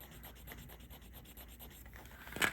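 A sterling silver jewelry clasp is scraped against a test stone in quick, rhythmic strokes, about a dozen soft close rubs, ending in a slightly louder scrape.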